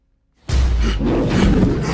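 A deep, loud monster roar from a giant 30-foot wolf in the Rampage (2018) trailer bursts in suddenly after near silence and sustains with a whooshing, rumbling body for over a second.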